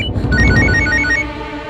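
A phone rings with a quick, repeating electronic melody, loud and close, over a brief low rumble.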